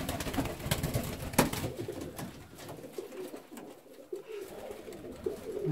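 Fancy ornamental pigeons cooing inside their loft boxes, soft repeated low coos layered with rustling and scattered calls from several birds close by, with no talk.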